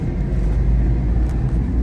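A car moving through heavy city traffic, a dense low engine and road rumble filling the short stretch at an even, fairly loud level.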